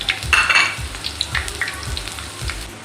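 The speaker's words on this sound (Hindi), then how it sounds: "अब हम इसी ऑयल के अंदर अपना लहसुन कटा हुआ डाल देंगे तड़का लगाने के लिए।" Chopped garlic hits hot frying oil for a tadka, in the same oil used for pakoras, giving a bright crackling sizzle with brief bursts of popping and stirring that fade to a softer, steady fry.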